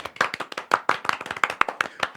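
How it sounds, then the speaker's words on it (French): A small group claps for a crew member in a studio, a short burst of uneven, close hand claps with no talking over it. "Donc je vous propose qu'on applaudisse Rosa."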